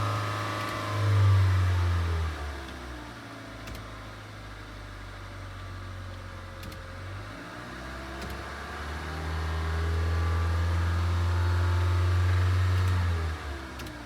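A car engine revs up toward about 2,000 RPM in two swells, near and clear, rising from idle, holding, dropping back, then climbing again before settling; no talking.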